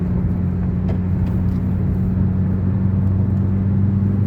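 A car cruising along an expressway in the dark early morning, with a continuous loud tyre-and-engine rumble and road whir and no talk.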